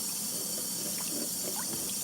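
Water runs steadily from a tap as something is washed under it, a continuous close splashing hiss with faint clinks, no talk.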